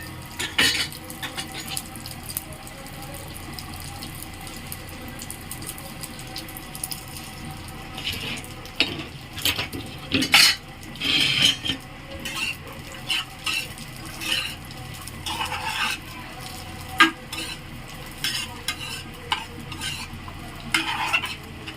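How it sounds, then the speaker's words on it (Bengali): A spoon scrapes and clinks against a pan while something lightly fries for Bengali payesh, with irregular stirring strokes over a soft, steady sizzle, close and alone. "একদম হালকা লাল লাল করে ভেজে নেব।"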